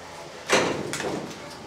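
A sheet metal door on a low-cost livestock farm shed is swung open, giving a sudden rattling metallic scrape followed by a second, weaker grating clatter, close by with no talking.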